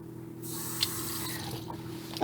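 A sprayer on a deep single-basin kitchen sink runs water in a soft, steady stream that starts abruptly and keeps going, with a couple of light clinks and knocks near the end.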